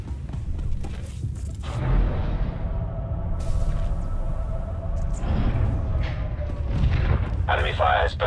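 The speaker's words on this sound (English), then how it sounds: "Enemy fire has burned through our shields." Heavy enemy fire pounds a starship in Knights of the Fallen Empire, a steady rumbling barrage of booms and thuds with alarm-like tones mixed in, loud and continuous throughout.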